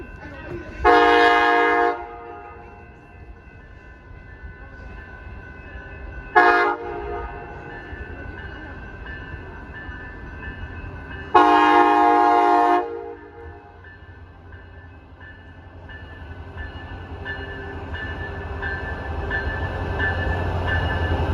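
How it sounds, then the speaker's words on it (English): An Amtrak Wolverine passenger train's horn sounds in three blasts, two long and one short, over a rising rumble of the train approaching on the tracks. "our train was all clear to come in and finally take us to Chicago"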